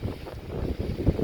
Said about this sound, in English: we are in the middle of a windstorm here in Montreal, up to 90 km/h wind gusts